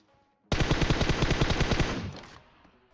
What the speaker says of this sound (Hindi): जिस हिसाब से ये लोग गोली चला रहे हैं ना फुल चौड़ में